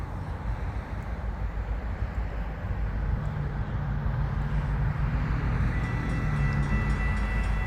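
An FECR freight train creeps slowly past at night, heading toward a siding; a steady low rumble of rolling wheels and engine drone holds throughout at moderate loudness, with no horn and no talking.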